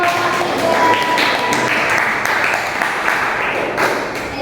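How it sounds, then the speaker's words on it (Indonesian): Classroom applause from students during a teaching practice lesson, a steady dense patter of clapping filling the whole stretch at close range. "Beri tepuk tangan dulu."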